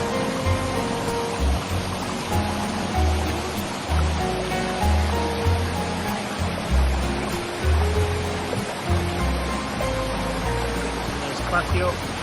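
Water roars steadily at the foot of the Rías y Eira waterfall in a natural setting, a constant close rushing wash with occasional low rumbles and a voice faintly underneath.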